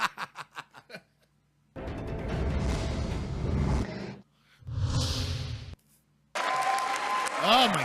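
Crowd applause in short bursts, broken by gaps and a few sharp separate claps at the start, with laughter and voices mixed in.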